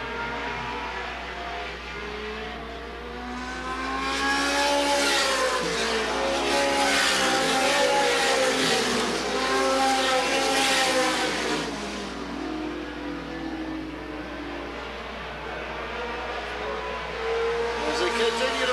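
Late model race cars circling Sandusky Speedway during a 1985 twin 30-lap feature, a dense roar of engines that swells loudly as the pack passes and fades between laps, with an announcer talking over it.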